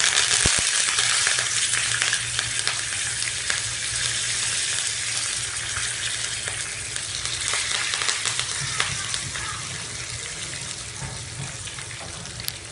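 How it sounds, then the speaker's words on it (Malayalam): Three sprigs of curry leaves frying in hot oil, a steady close sizzle and crackle with scattered pops throughout, no talk. "നല്ലപോലെ ഒന്ന് മുരിഞ്ഞ് വരട്ടെ കറിവേപ്പില."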